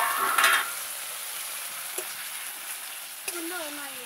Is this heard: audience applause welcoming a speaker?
no